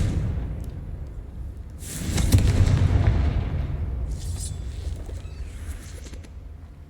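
A Confringo explosive spell cast in Hogwarts Legacy goes off as a single loud, booming blast that rumbles and decays over a few seconds, followed by fainter crackling bursts.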